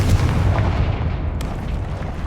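Confringo fire curse blast in Hogwarts Legacy, a heavy booming rumble that rolls on and slowly decays, with a sharp crack near the end.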